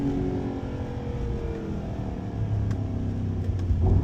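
A Mercedes-AMG GT55 coupe accelerates at full throttle, its engine roaring loudly and close, the rumble building steadily and growing heavier toward the end, with no talking.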